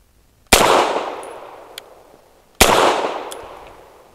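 Two loud, sharp shots from a BUL M-5 pistol firing PPU 158 grain subsonic rounds, spaced about two seconds apart, each followed by a long fading echo outdoors.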